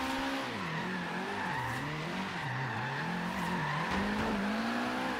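A Nissan 240SX hatchback with a stock KA engine drifts in Forza Horizon 3 online, a continuous loud tire squeal wavering in pitch over a droning engine that swells and dips as the car slides.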